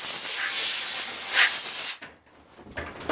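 A steady, loud hiss of a spray gun spraying finish onto a cabinet for about two seconds, then it cuts off, leaving near-quiet with a brief hissing burst near the end.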